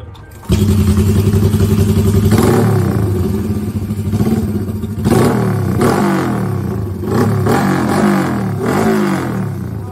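A motorcycle kicked over and started, its engine settling into a loud, fast idle, then revved several times in rising and falling bursts with some mechanical clatter and thumps mixed in.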